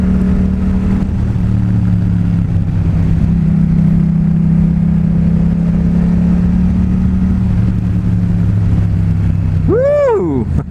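Yamaha FZ-07 (MT-07) with a Two Brothers full exhaust engine braking in third gear, a loud steady drone that sags slowly, then a sharp blip of revs near the end, with wind noise and no talking.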